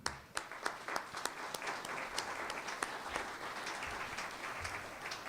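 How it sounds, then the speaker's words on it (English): Attendees at an educators' hall of fame enshrinement ceremony applaud a speaker, sharp individual claps at the start quickly merging into steady, fairly distant applause. "Let's give him an applause."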